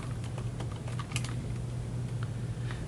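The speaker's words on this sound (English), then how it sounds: "just type in your username and password" Keys on a computer keyboard are tapped in quick, uneven bursts while a username and password are entered, with soft, close clicks over a low steady hum.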